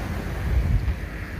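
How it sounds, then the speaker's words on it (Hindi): Sea waves wash against the shore at Karachi's Sea View beach, a brief, steady, close surf roar mixed with wind rumble, with no voices. "ये है हमारे खूबसूरत से शहर कराची का, खूबसूरत सा हमारा समंदर का एक किनारा"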